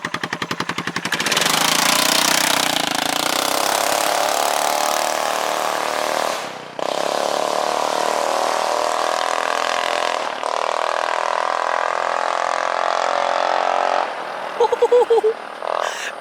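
A straight-piped 2009 Yamaha Majesty 400cc scooter roars steadily close by, loud and raspy, with brief drops in the drone and a short voice near the end.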